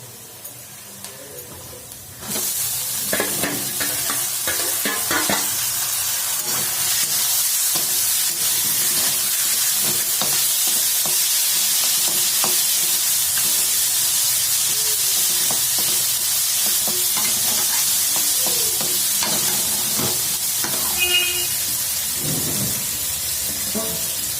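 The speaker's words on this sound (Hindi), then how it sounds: "तो अब हम इसमें दाल को मिक्स करके और फ्राई कर लेंगे।" Lentils (dal) stirred into softened onion and chilli in a hot pan for a dal paratha filling, giving a steady loud sizzle with occasional spoon scrapes and knocks throughout.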